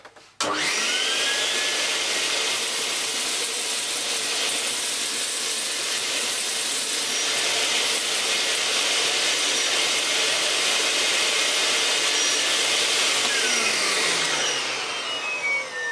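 Vax PowerPlus vacuum cleaner fitted with a turbo brush head, switching on abruptly and then running as a loud, steady, close whooshing whine with a broad airy hiss that holds constant for the whole stretch.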